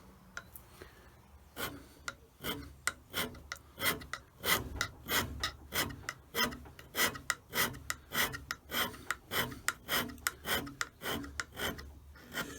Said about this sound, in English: This is the bit where I do my first scrape